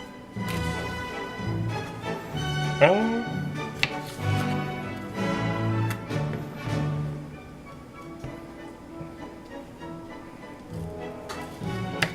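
A knife cuts potatoes into thin slices for home fries, giving scattered soft taps and knocks on a board over a steady humming, tonal background.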